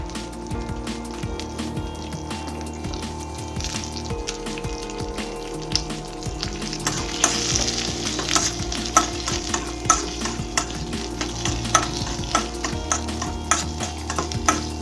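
Large-cut onions sauté in a pan for making bread masala dosa, with a steady sizzle under repeated stirring and scraping that grows busier and louder as it goes on.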